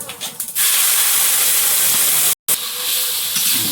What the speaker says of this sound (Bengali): তেলের মধ্যে একটু গোটা জিরে আর দিয়ে